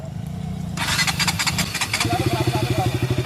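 A KTM RC200 motorcycle idles close by: a low, steady exhaust putter that settles into an even pulsing rhythm after a brief louder burst.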